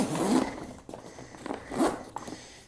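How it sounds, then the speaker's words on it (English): Zippers on a Gorilla grow tent being pulled closed, a few quick rasping zips in short bursts, fairly close and moderately quiet with no talking. "we're gonna zip all of the zippers back into their original position"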